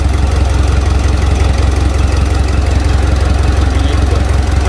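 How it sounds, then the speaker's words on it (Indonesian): A rebuilt Mitsubishi Pajero Sport engine with a wobbling lower pulley idles close by, a loud, steady, fairly smooth rhythmic running with a faint squeal and no voices. "untuk suara mesinnya ya lumayan halus teman-teman ya, dan juga getaran mesin tidak terlalu"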